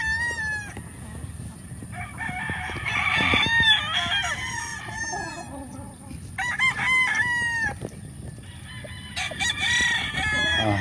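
Roosters and chickens on a big breeding farm in the Philippines crow in repeated long, overlapping calls, several birds near and far, with clucking and soft farm background between crows and no talk.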